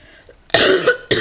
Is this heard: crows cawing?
no